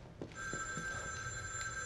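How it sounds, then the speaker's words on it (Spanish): A telephone ringing in the horror video game The Evil Within 2, a sustained electronic bell tone that starts after a brief pause and rings continuously at moderate level, with no speech. "Ay, el teléfono."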